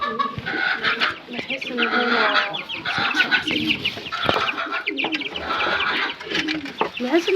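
Domestic free-range chickens cluck and chatter continuously up close, a busy, overlapping flock sound with a person speaking over it.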